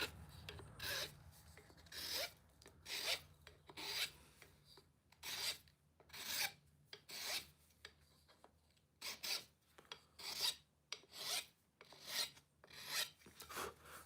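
Rhythmic strokes of hand sanding on a wooden tobacco pipe, roughly twenty quiet, raspy back-and-forth rubs in an irregular steady rhythm, close but faint with no talking.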